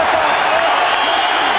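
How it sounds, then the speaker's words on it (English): A boxing crowd at a Larry Holmes versus Ray Mercer heavyweight fight, on its feet cheering and applauding, a loud, dense, steady roar of clapping and shouting with no break. "Crowd on its feet."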